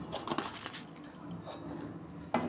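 Gram flour batter mixed with water in a bowl for crispy banana-flower chops, already seasoned with chilli powder and a pinch of baking soda; close, irregular clinks, taps and soft wet squishes of the bowl, with no talking.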